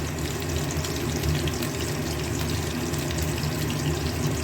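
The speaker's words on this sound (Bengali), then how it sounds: "সব পনিরগুলো একে একে ভেজে নিয়েছি।" Large pieces of paneer frying in hot oil, a dense continuous sizzle and bubbling that stays steady and fairly close throughout, with no voices.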